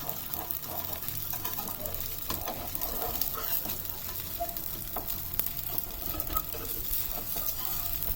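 An atta dosa on an iron tawa gives off a steady, close sizzle and crackle of frying batter, continuous throughout with faint scraping from a spatula.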